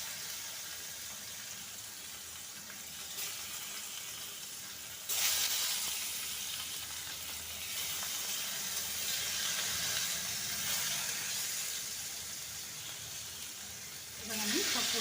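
Paneer pieces fry in hot mustard oil mixed with a little turmeric, giving a steady broadband sizzle that jumps louder partway through as more pieces go into the pan and then holds.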